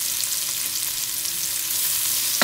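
Onion frying in a hot pan, a steady broadband sizzle holding level close up throughout, with no talking.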